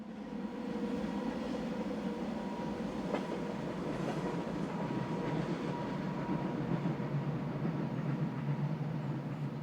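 Local passenger train unit 402049 runs a Payerbach to Semmering service on the Semmering Pass line in Austria, a steady rolling rumble with faint clickety-clack of wheels, sustained and fairly close throughout.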